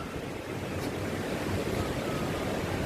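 Ocean surf rolling in at Laem Mae Phim beach in Thailand, a steady, even wash of wave noise with some wind rush across the mic, no talking heard.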